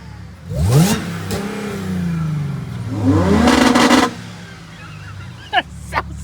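Turbocharged and supercharged time attack Mini Cooper engine revving in two strong sweeps, rising sharply and dropping back, loud and close, followed by brief pops and quieter idle.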